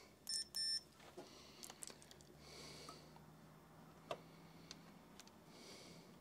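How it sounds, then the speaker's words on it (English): A multimeter beeps in short continuity-check tones while a DIY PC-to-Apple II joystick adaptor is tested, two quick beeps near the start, then light handling clicks and taps in a quiet room. "now we obviously want to test this with a multimeter"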